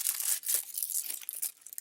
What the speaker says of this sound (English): I'll take this out of the package so it can start flattening out.